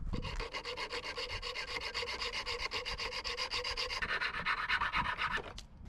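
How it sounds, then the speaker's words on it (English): A file rasps back and forth over the cut ends of bronze bolts in rapid, even strokes, close and crisp, ending with a brief scrape. "we filed down the ends to remove the sharp edges"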